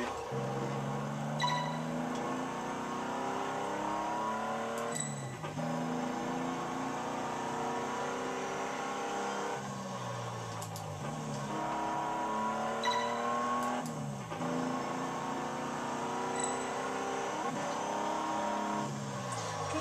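Classic car driven hard in the racing game Test Drive Unlimited 2, engine revving up and down through repeated gear shifts, with tyres squealing through corners, continuous and close.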